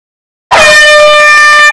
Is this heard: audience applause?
no